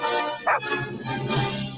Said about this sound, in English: I didn't realize he did the little bark of it.